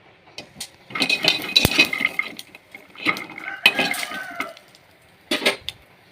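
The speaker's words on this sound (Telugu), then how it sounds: "పల్లి చట్నీకి పల్లీలు వేపుకుందాం కొంచెం ఆయిల్ వేసి" Peanuts roasting in a little oil in a pan for peanut chutney, with metal spoon scrapes and clinks against the pan in irregular bursts, close and fairly loud, alone without talk.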